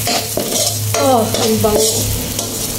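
Garlic and ginger sizzle gently in melted butter over low heat, a soft steady frying hiss with occasional stirring scrapes, close by, as a voice speaks briefly over it.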